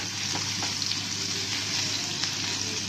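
Black spice chutney fries in hot oil in a home kitchen pan, giving a steady, close, continuous sizzle with faint crackles and no talking.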